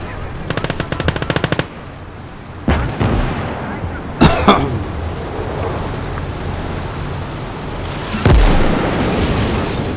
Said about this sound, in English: Extra loud Tiger noises.